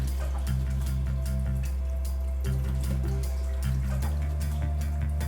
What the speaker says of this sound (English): Then rinse under warm water.